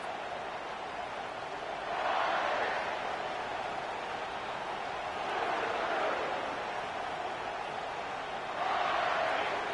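A football stadium crowd at a college game between Texas and Kentucky roars continuously, swelling into louder surges three times in a steady, distant wall of cheering.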